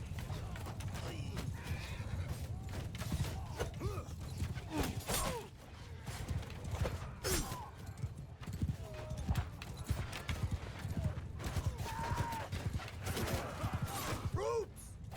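Horse hooves clip-clopping and horses neighing in the Mount & Blade II: Bannerlord battle game, a continuous busy clatter of galloping with several whinnies rising above the din, far-off shouts and battle noise mixed in.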